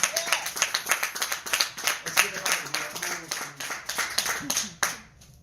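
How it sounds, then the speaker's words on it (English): Church congregation claps along with praise, a steady run of sharp, rhythmic hand claps layered with voices and music, loud and close throughout before trailing off at the end. "Let somebody clap your hands and give God a praise."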